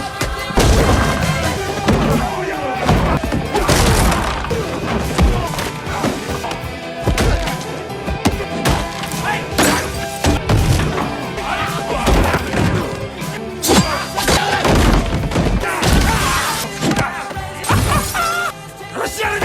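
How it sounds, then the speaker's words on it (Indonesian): Dense, loud barrage of smashing, thwacking impacts and crashes from a gangster film brawl, with punches and breaking objects piling up continuously over a busy, cinematic mix. "Baku hantam kembali terjadi"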